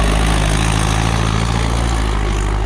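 Sonalika DI-750 III tractor engine pulling in third gear, a loud, steady, low diesel rumble with constant droning throb, close up and without talk.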